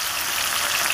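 Tilapia fillets fry in hot oil for a spiced Indian fried fish, giving a steady, even sizzle and crackle that stays at one level throughout. The sound is close and continuous, with no voices.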